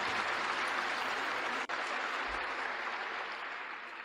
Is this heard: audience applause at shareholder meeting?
yes